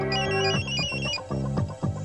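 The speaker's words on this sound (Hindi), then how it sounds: "फोन।" A loud, close electronic phone ringtone plays a repeating melodic tune in a Hindi film scene, heard alone with no voices.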